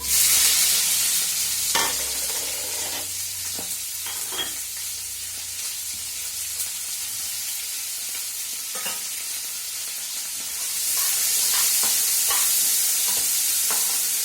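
Sliced onions frying in a hot, dry pan for potato kurma give a continuous loud sizzle. Stirring adds scattered scrapes and clicks, and the hiss swells louder toward the end.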